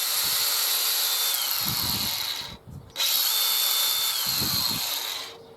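DeWalt DCG406 18V brushless angle grinder running free with a high, steady whine, close and loud, cutting out briefly then spinning back up for a second run.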